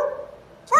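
A dog barks briefly and sharply nearby, a couple of close yips at the very end after a quieter stretch, heard alone with no talking.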